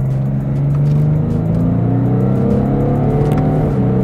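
A steady, loud BMW 840d xDrive Coupé (G15) diesel engine drone with strong low harmonics, rising slightly in pitch as it revs, continuous throughout without any talking.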